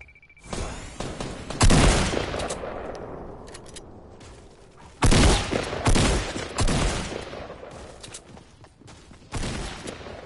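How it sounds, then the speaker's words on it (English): Bursts of gunfire from the Fortnite video game, loud, clustered volleys separated by short lulls, with repeated sharp shots across the whole stretch. "Keep shooting while you distract him."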